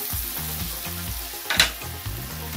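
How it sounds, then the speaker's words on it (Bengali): Onion frying in oil with curry, turmeric and red chili powders sizzles steadily in a pan, with a few clinks and stirring scrapes over the soft continuous hiss. "আর একটু মশলাটা কষিয়ে নেব।"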